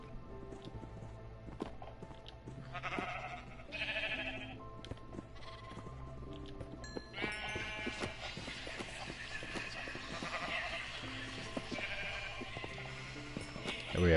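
Sheep bleat repeatedly over a steady looping game soundtrack, with soft footsteps and other game effects scattered throughout.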